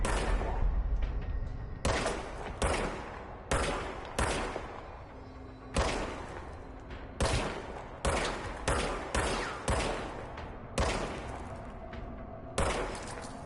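Repeated gunshots from the video game Control, loud close bursts fired in quick clusters and single cracks roughly every second, each with a short decaying tail, no talk over them.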